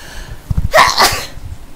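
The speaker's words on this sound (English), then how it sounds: "so I keep sneezing" A single sharp human sneeze bursts out close and loud, preceded by a few short sniffing breaths and followed by quieter huffing.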